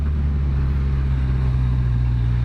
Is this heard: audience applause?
no